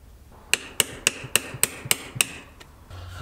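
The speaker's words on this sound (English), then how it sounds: "And then we gotta bend this lock washer down." Seven sharp, ringing hammer blows strike a lock washer on a Puch ZA50 moped engine bottom end, spaced evenly about a quarter second apart, close and loud, with a final lighter tap.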